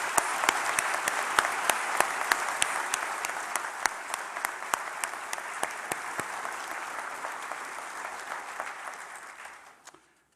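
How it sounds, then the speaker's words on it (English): A large audience at a university graduation ceremony in Waterloo applauds graduates and guests. The dense, sustained clapping lasts about ten seconds, with a few louder individual claps standing out, then fades out abruptly. "Please join me in a round of applause to recognize our graduates and our guests and members on"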